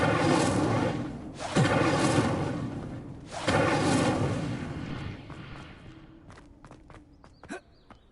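Two loud whooshing fire bursts from an Incendio spell in Hogwarts Legacy roar up in quick succession, each fading slowly. A few sharp clicks and small impacts follow in a quieter tail.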